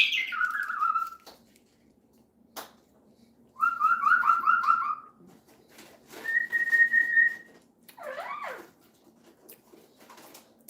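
Pet birds whistle from their cages in an indoor room, giving several separate bursts: trilled and warbling phrases, one sustained clear note, and a wavering call, with quiet pauses in between.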